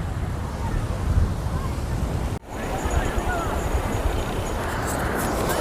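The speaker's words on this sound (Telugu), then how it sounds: "ఈ యొక్క అలలు ఎగసి పడుతూ ఉన్నాయి" Ocean waves surging onto rocky Kovalam Beach near Chennai: a broad, continuous wash of surf mixed with gusty wind buffeting the microphone, with a brief cut midway before the roar resumes.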